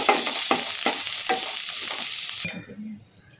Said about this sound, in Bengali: এরপর ওই তেলটাতেই বাকি যে সবজিগুলো ছিল ওইগুলোও ভেজে তুলে রাখবো।